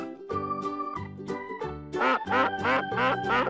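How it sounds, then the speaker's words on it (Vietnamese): A duck quacks in a steady series of about seven nasal calls, the later ones louder and more rasping, close and alone with no talk. "Đây là con vịt."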